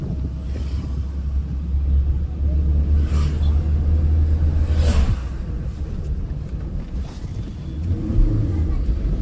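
A learner's car creeps slowly forward during a driving lesson in Trichy, its low engine rumble and road noise steady and close, with wind buffeting the microphone and an instructor speaking over it.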